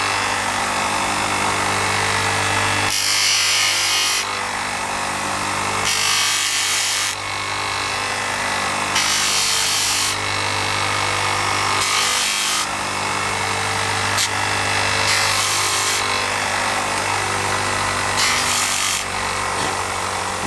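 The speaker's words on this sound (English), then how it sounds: "Just sand a little bit, and just check as you sand." Bicycle brake pads are sanded by hand, a loud close rasping scrape in repeated strokes with short pauses between them, steady and rhythmic with no talk.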